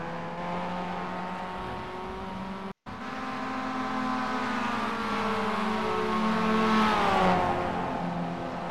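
Mazda MX race car at speed on the Charlotte Roval, a steady loud engine note that rises and sweeps in pitch as it runs through the curbs, with a brief cut in the middle.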